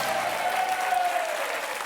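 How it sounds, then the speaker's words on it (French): Studio audience of a French game show applauds, continuous full clapping from the crowd, loud and sustained without any talk over it. "ces applaudissements sont pour vous"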